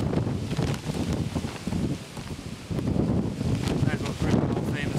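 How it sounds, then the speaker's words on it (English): Wind gusts buffet the microphone beside a fishing lake at Ribby Hall, rising and falling in rough, loud bursts of rumbling noise with no clear talk. "Pretty windy. As you can probably tell."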